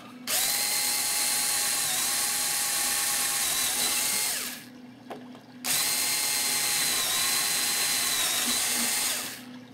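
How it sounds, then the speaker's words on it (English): A power drill drills holes in a Phoenix Models Sukhoi Su-31 model aircraft, running in two long, steady high-pitched bursts close by, separated by a brief pause. "We're going to drill these holes."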